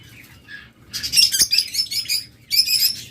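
A pair of lutino red-eye lovebirds chirps in bright, rapid bursts of high, shrill twitters close by, with a brief rustle of wings in between and short pauses between the outbursts.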